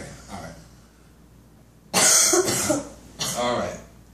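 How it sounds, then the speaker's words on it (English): Coughing from a person on stage during a comedy hypnosis show: two loud, harsh bursts near the middle and end, with quiet murmuring before them. "You can cough now?"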